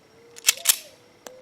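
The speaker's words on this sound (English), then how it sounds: "Okay, rack the slide." Slide of a S&W BodyGuard 380 pistol racked, giving two quick, close metallic clacks followed a moment later by a fainter third click, with a low hum underneath.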